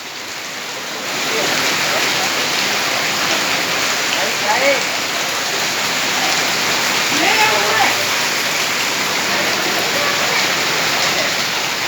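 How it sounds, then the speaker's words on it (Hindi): Heavy monsoon downpour pours steadily on a market street in Sadri, a dense continuous hiss of rain splashing on surfaces with faint voices briefly heard beneath it. "मूसलाधार बारिश बह रही है।"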